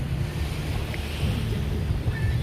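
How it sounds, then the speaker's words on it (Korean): A motorboat passes off Otres Beach in Sihanoukville, Cambodia, at sunset, a low steady drone blended with wind and gentle surf, with no voices. "모터보드도 지나가네요"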